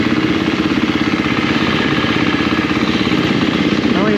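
KTM 350 dirt bike engine running steadily, a loud, close, buzzy single-cylinder drone with a rapid even pulse throughout, no voices.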